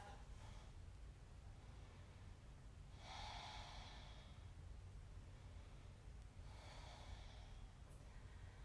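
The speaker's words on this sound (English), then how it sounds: "Coming back to that Ujjayi breath." Slow audible breaths in a power yoga flow, with two long breathy exhalations drawn through a constricted throat, each lasting about a second over a steady low background hum, with no talking.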